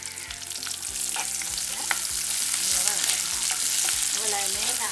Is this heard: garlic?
yes